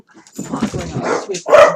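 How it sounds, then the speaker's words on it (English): Dog growling and barking aggressively over a chew toy in a busy home, short yappy bursts building to a loud bark near the end, mixed with a person talking over it. "that's my dog being aggressive over a chew toy."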